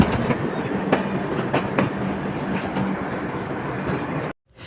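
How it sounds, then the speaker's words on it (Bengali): The Dhaka–Khulna Sundarban Express pulls into platform 1 at Khulna railway station, its wheels making a close, rhythmic clickety-clack over a rumbling rail drone before the sound abruptly drops away. "এইমাত্র ঢাকা খুলনাগামী সুন্দরবন এক্সপ্রেসটি খুলনা রেলওয়ে স্টেশনের 1 নম্বর প্ল্যাটফর্মে পৌঁছেছে।"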